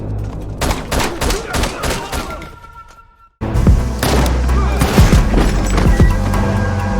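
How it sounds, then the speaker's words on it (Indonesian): Heavy gunfire and explosions from a film battle scene against bandits, dense bursts of shots and booms throughout, with a brief lull before a loud resurgence of sustained firing. "Dalam panasnya baku tembak, Silas berhasil mendapatkan bidikan yang jel"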